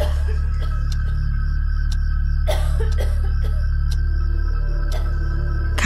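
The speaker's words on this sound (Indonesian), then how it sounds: "yang ku dengar hanyalah suara orang yang sedang batuk" A person coughs in a horror radio drama: a few short, sharp bursts spaced a couple of seconds apart over a steady low electrical hum and faint background noise, with no talking.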